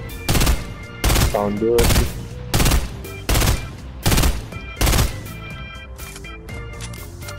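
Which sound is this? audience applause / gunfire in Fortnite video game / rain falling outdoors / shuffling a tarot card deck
gunfire in Fortnite video game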